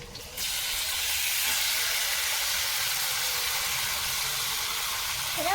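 Chicken pieces hit a hot pan already holding spices and burst into a loud, continuous hiss and sizzle that holds steady, cooked outdoors on a rooftop.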